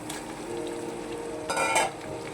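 Chicken meat frying in a pan gives a soft, steady sizzle that swells into a louder hiss for a moment midway before settling again.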